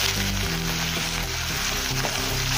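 Ginger-garlic paste frying with cloves and cardamom in hot oil, a loud, steady crackling sizzle close up with faint stirring, no voices.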